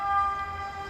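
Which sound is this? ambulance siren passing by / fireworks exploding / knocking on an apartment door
ambulance siren passing by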